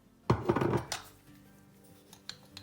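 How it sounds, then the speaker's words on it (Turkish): A spoon stirs yeast with warm water and sugar in a bowl for lavash bread dough, clinking and scraping against the bowl in a brief close flurry, then a few faint taps. "Şöyle bir karıştıralım."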